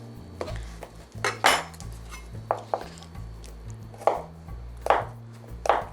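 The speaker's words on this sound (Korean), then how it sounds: "애호박을 4분의 1만 넣습니다. 4분의 1을 넣는데 콩알만한 크기로다가 잘라서 넣어주면 되거든요" A knife chops a quarter of a Korean zucchini into bean-sized pieces on a cutting board, giving a steady series of sharp, close knocks at an uneven pace over low background hum, with no talking.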